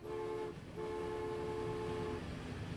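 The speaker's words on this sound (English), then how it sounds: "There is the train." Train in the Transport Fever game, set in 1908-09, sounds a steady harmonic horn tone that breaks off briefly and then resumes for a long sustained blast, fairly quiet and alone.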